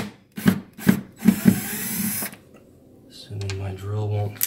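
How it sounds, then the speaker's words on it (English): Several short thuds and scrapes of handling, followed by a cordless drill buzzing in short bursts removing screws from a Roland digital grand piano, nearby and moderately loud. "I'll go ahead and remove these screws first."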